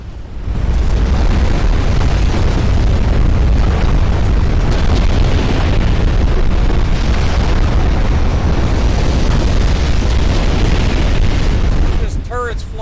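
A flash fire explosion aboard a warship in the game Ultimate Admiral Dreadnoughts, with turrets thrown off: a loud, massive blast that roars continuously for more than ten seconds before dying away into brief speech.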